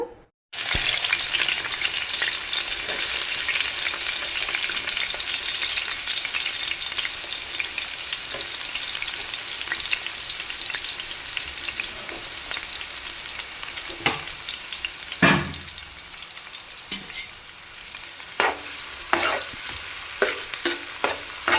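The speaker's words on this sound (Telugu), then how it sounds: "ఇప్పుడు ఆయిల్ కాగిపోయింది, ఆనియన్స్ వేసేస్తా." Onions dropped into hot oil give a loud, continuous frying sizzle that starts abruptly and holds steady, with a few sharp utensil clicks and stirring knocks near the end.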